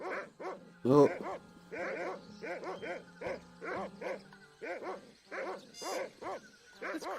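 Cartoonish dog barks from the Monkey Island 2 video game come in a steady run of short, evenly spaced yaps, close and clear, with a single brief spoken exclamation near the start.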